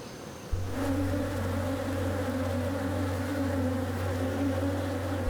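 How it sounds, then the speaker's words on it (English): A steady, dense buzzing of bees starts abruptly and continues without pause, close and moderately loud, like a hive or swarm nearby. "The next step is getting the bees near the elephants."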